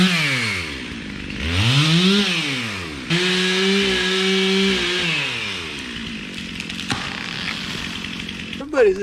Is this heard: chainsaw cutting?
yes